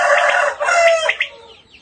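A quail gives a short burst of loud, close, tonal call notes, each rising and falling quickly over less than two seconds.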